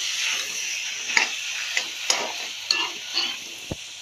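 Ginger garlic paste fries in a pan for chicken butter masala, with a loud, close hiss and sizzle broken by several sharp taps and scrapes of a stirring spoon against the pan.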